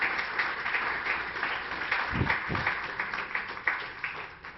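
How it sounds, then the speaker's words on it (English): An audience applauds conference panelists at a talk on scaling real-time analytics, a steady wash of many hands clapping at moderate distance, a few heavier thumps midway, no voices over it. "Please give them a round of applause."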